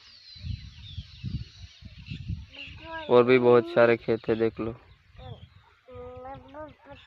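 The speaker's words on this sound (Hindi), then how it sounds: "यहाँ पक्षियों की आवाज़ कैसी लग रही है" Birds calling across a farm field in the morning, a run of loud clucking and squawking calls like fowl, with someone talking over them at times.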